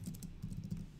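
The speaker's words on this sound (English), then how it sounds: "my typing is terrible today" Fast, irregular typing on a computer keyboard, close and clear, a run of quick soft key clacks with no voices.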